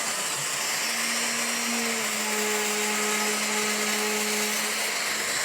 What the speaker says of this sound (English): I'm going to bore a couple of holes out